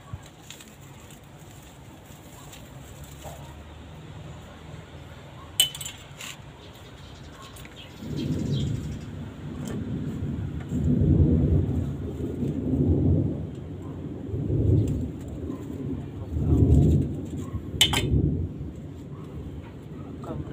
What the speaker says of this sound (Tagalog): Babadya ang ulan mga idol.